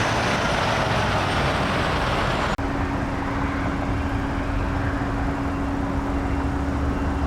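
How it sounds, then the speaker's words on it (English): Heavy trucks idle and rumble at a busy truck stop with a cafe, a dense steady roar of engines nearby, broken by a sharp air-brake hiss followed by a sustained low engine hum. "This is a very busy truck stop too"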